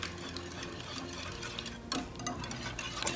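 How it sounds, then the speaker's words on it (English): A hand whisk beating wet pancake-loaf batter in a bowl, a close, continuous light scraping and ticking rhythm with a couple of sharper clinks against the bowl, no voices. "I'm going to have to whisk with my handy whisker here. And I'm just gonna combine these ingredients"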